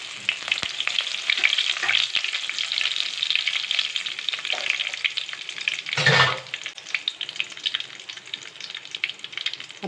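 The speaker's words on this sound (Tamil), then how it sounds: "இப்போ வந்து கடுகு பொரிஞ்சிருச்சு. இப்போ நம்ம கருவேப்பிலை சேர்த்துக்கலாம்." Curry leaves drop into coconut oil with popping mustard seeds, raising a loud, crackling sizzle close by, with a sharp surge as they hit the oil and steady stirring, no speech.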